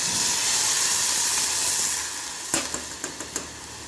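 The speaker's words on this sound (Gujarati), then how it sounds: "થઈ જાય પછી 1 ગ્લાસ જેટલું પાણી નાખવાનું" About a glass of water hits a hot pan of stuffed brinjal and potatoes, a loud rushing hiss of steam that fades down, followed by several light clinks and scrapes of stirring.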